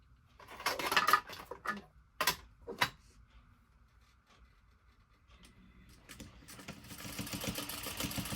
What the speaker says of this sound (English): now we're going to stitch that down